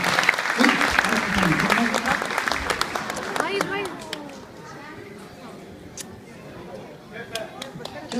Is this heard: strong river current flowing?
no